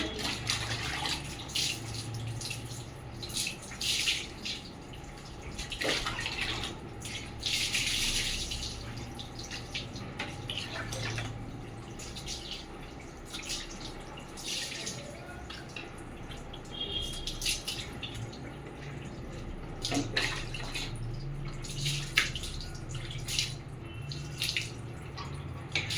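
Water runs and splashes steadily at moderate volume during a Labrador's bath, with scattered louder splashes and drips throughout.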